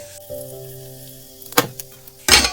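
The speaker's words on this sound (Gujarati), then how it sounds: "હવે એમાં આપણે એડ કરશું રાઈ અને જીરું રાઈ અને જીરું તતળી જાય" Mustard seeds and cumin hit hot oil in a pan for a dal dish, giving short bursts of sizzling and crackling spitting over a quiet background, with a sharp loud flare near the end.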